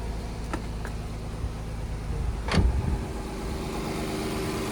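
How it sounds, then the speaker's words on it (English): A Nissan VQ35HR V6 engine idles steadily and smoothly after a full timing refresh, a low, even hum close by, with a brief sharp metallic knock or clunk midway and no talking. "engine is working smoothly"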